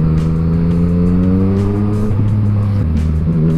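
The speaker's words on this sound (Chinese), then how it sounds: "这三缸引擎真的是爽" A Yamaha MT-09 three-cylinder motorcycle with a full Akrapovič exhaust drones loudly and close, holding a steady rumble, then shifting down in pitch partway through and again near the end.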